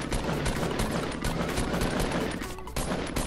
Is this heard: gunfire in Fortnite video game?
yes